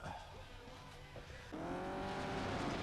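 Race car engine in the Test Drive Eve of Destruction game roaring at full throttle, steady and loud, climbing to a harsher, higher pitch partway through.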